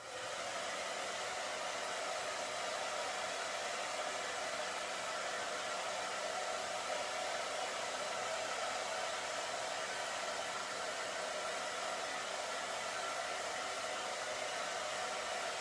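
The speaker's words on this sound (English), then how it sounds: "I'm going to grab the hairdryer again." A hair dryer blows hot air over a paper craft project for a winter printable, a steady, loud whooshing hiss that runs unbroken and alone throughout.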